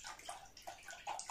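A liter of milk pours into a saucepan in a soft, faint splashing, gurgling stream for just over a second, with no talk.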